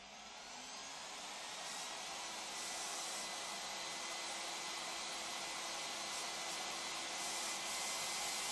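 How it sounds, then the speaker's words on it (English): A Leister VARIMAT V2 automatic welding machine's blower runs as a steady, loud, broadband hot-air rush, rising slightly at the start and then holding even and continuous throughout. "Pressing the e-drive starts the welding machine."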